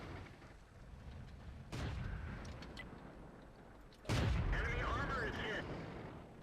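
Artillery strikes in World of Tanks, with two heavy booming impacts a couple of seconds apart, the second louder and closer, over a low ambient rumble with some talking.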